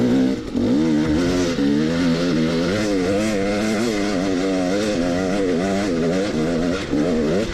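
A motorcycle pulls hard through second and third gear, its engine note rising and dropping with each shift, loud and close under wind rush.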